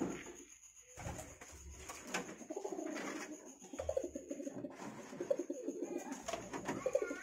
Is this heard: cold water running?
no